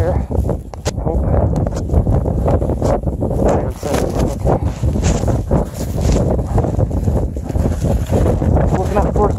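Strong mountain wind on the Longs Peak trail in Colorado, gusting around 30 to 40 mph: a loud, continuous roaring buffet battering the microphone throughout, with a voice partly audible beneath it.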